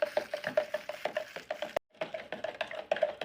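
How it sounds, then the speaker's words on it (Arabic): Spoon stirring citric acid into an oxalic acid mixture, a quick steady run of clinks and scrapes against the container with one short pause partway through. "هنقلب ستيرك اسيد ملح الليمون كويس مع الاوكزاليك اسيد"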